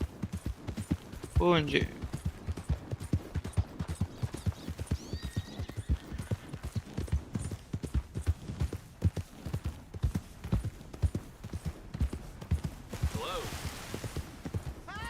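Horse hooves clip-clop at a steady walking rhythm in Red Dead Redemption 2, close and continuous, with a brief whinny near the start and another toward the end, while someone talks over them.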